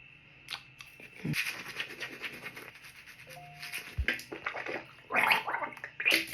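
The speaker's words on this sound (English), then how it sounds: "So I'm just gonna brush my teeth and then wash my face again." A toothbrush scrubbing teeth up close, a steady wet scratchy brushing with occasional louder strokes and brief swishing of water.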